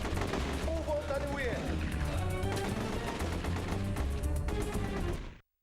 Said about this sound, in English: I'm going to turn a corner and I'm going to shoot with a shotgun.